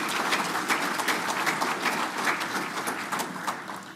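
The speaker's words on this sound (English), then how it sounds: "Let's give them a round of applause." Sustained audience applause at a cooperative's annual meeting, dense overlapping claps holding steady and loud for the full stretch.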